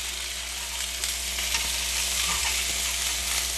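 Salmon pieces sizzle steadily on a Ninja Foodi Smart XL grill as they are flipped, a close, continuous frying hiss with faint soft clicks of handling, and no talking.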